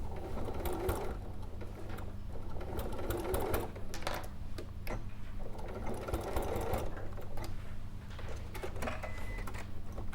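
A sewing machine stitches forward and reverse on a cushion in rapid rattling bursts with brief pauses between runs, close and steady throughout.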